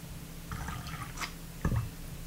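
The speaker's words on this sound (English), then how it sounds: "and force water through it" Water forced through an atomizer to flush out leftover baking soda residue, giving brief wet squirts and drips with a sharper splashy burst near the end.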